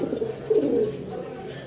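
A racer pigeon coos close by in a low, throaty burst that swells in the middle, with faint background noise.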